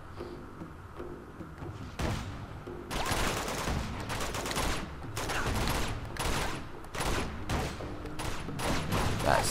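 Rapid sniper and automatic gunfire in a firefight in Uncharted 2: Among Thieves at a mountain monastery, with dense, loud overlapping bursts after a quieter opening, continuing almost without a break.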